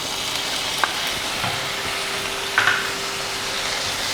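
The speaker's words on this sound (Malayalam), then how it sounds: "തക്കാളി നന്നായിട്ട് വഴറ്റി കൊടുക്കുക" Tomatoes sautéing in a pan for egg masala puttu give a steady, moderate sizzle and hiss, with a few faint utensil clicks and no voices.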